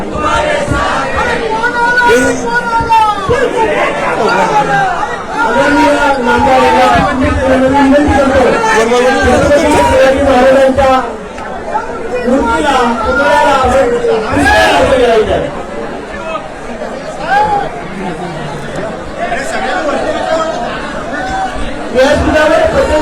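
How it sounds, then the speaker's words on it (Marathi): A dense crowd at a Shiv Sena–BJP political rally in Thane roars with chatter, shouts and chanting, loud and continuous throughout, with a brief dip midway before swelling again. "गर्दी झालेली आहे।"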